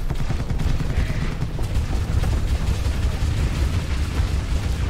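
Ship weapons fire in the space combat game Starsector, a dense, continuous rumble of overlapping booms and blasts sustained at steady loudness throughout.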